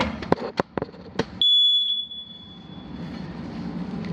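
A household smoke alarm being button-tested: a few sharp clicks and taps, then a piercing high-pitched beep that sounds loud and steady for about half a second before fading into a lingering ringing tone.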